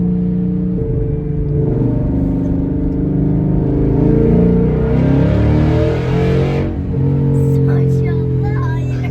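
Loud, strong engine of a GT100 with an F100 chassis swap, a deep sustained rumbling roar that swells with revving in the middle, close by, with people talking over it.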